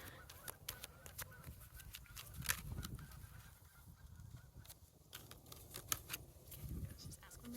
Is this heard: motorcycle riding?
no